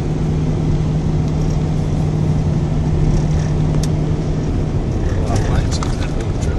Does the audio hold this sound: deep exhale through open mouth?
no